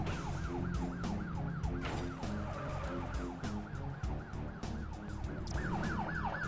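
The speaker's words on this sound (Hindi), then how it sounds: "देखें सामने एम्बुलेंस जा रही है" An ambulance siren in a mobile video game wails, sweeping up and down repeatedly over a steady traffic rumble, with engine drone filling the low end throughout.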